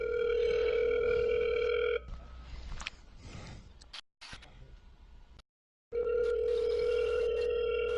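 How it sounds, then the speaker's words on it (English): A telephone rings in repeated electronic bursts, loud and close, with a break in the middle filled by other indistinct sound and a short silence before the ringing resumes. "His phone ringing."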